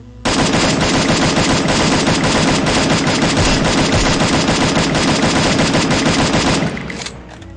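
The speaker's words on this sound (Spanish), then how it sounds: "vamos a empezar con disparos al pecho con la M4 amarilla" A yellow-skinned M4A1 assault rifle in the mobile shooter Free Fire fires one long, unbroken automatic burst that empties the magazine. The rapid shots are loud and close, with no talk over them, and they stop sharply near the end.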